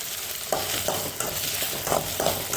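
Okra with salt is mixed in an oiled pan, and a spatula makes repeated rhythmic scrapes and turns about every half second over a constant close sizzle, with no talking.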